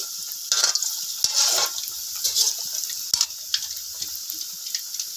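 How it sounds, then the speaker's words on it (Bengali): Suji pitha, semolina cakes, frying in hot oil, a steady crackling sizzle with bursts of bubbling and a few sharp clinks of a utensil, close and fairly loud with no talking. "আচ্ছা এইগুলো এখন তেলে ভাজানো।"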